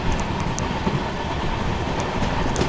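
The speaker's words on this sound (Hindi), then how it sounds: "लखनऊ शहर के बीच में धूल उड़ाती अपनी अमृत भारत एक्सप्रेस।" Amrit Bharat Express train rolling through the middle of Lucknow city, a steady loud broadband rumble of wheels and carriages with faint clickety-clack, continuous throughout with no voices.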